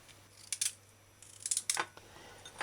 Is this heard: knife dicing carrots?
yes